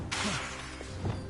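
Bombarda blasting spell cast in the Hogwarts Legacy video game: a quick whooshing burst that breaks into a shattering crash, loud and close, over steady game ambience.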